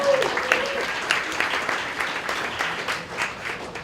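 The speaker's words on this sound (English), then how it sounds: "if we could all give Catherine at the back an applause for switching the slides" An audience at a social media breakfast event gives sustained applause, a steady wash of many hands clapping that fills the room at moderate loudness.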